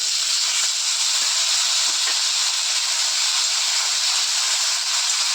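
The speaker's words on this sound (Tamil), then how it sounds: "அப்போ இதே கடையில் அந்த வெங்காயத்தையும் போட்டு நல்லா வதக்கிக்கிறோம்" Small onions sauté in a hot pan for a spicy shallot chutney, a steady, loud hiss of frying that runs without pause, with no voices.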